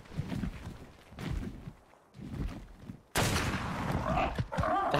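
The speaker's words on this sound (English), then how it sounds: "The heck was that sound? A gunshot." Gunfire in the multiplayer survival game Ark: Survival Evolved, Ragnarok map: sharp bursts and shuffling movement with game ambience, then a louder sustained noisy stretch near the end.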